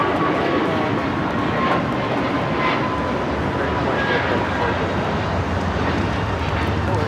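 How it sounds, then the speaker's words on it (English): An American Airlines Airbus A321neo takes off at LAX, its engines producing a loud, steady, broadband jet roar that fills the whole stretch. "This is American Airlines Flight 2440 taking off to Miami, Florida on the A321neo"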